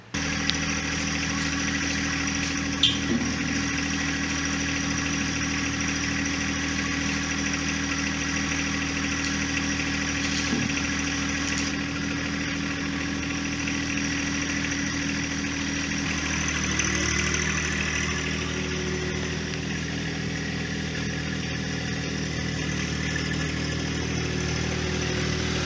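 A diesel tractor engine idles steadily for a long stretch, a low rhythmic chugging rumble close by with no voices.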